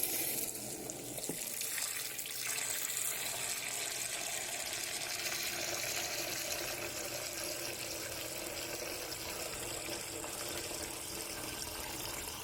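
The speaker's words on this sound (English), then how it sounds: "So I'm going to use some filtered water here." Filtered water pours steadily into a container for greenhouse plant care, a continuous close splashing stream that holds constant for about twelve seconds.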